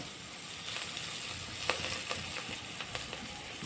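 Chopped coriander and mint sautéing in a pan for veg biryani, a soft steady frying hiss with a few faint ticks of stirring, no voices.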